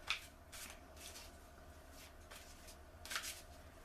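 Angel cards being shuffled for a weekly reading, giving soft, close riffling and sliding bursts spaced a second or so apart, with brief sharper card snaps near the start and end, and no talking.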